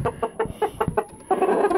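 A rooster makes a string of low, short guttural clucks and grumbles, close by, followed by a longer rougher murmur toward the end.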